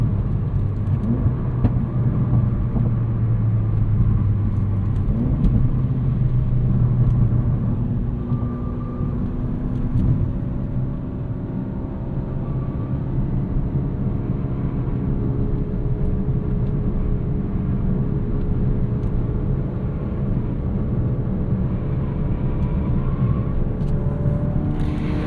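Exhaust and engine of a 2016 Ford Focus RS, a 350 hp all-wheel-drive hot hatch in sport mode, a steady loud low drone with shifting pitch from inside the cabin while driving.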